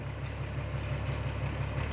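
A CAT 320D excavator's diesel engine drones loud and close at a steady low rumble while the machine is loaded onto a trailer, with a faint higher mechanical whine above it.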